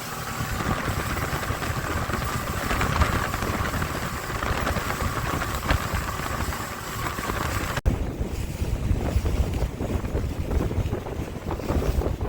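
The motor of a new fishing boat runs steadily out on open water, its hum largely buried under heavy wind buffeting and rushing spray, with a sudden cut partway through.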